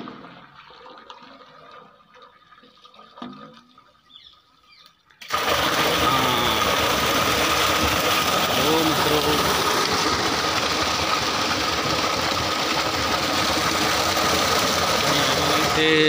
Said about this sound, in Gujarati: જો પાણીનો અવાજ આવે છે।